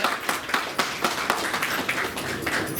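An audience at a Gorakhpur civic gathering claps together in steady, rapid applause, close and sustained throughout, with no talk over it.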